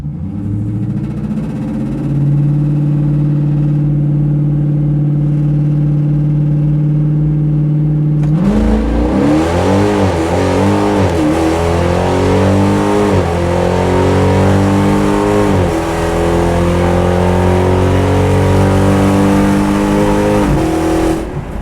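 A naturally aspirated 392 Hemi drag car idles with a steady rumble, then the revs are bumped before it launches hard down the strip, loud engine climbing through repeated gear shifts.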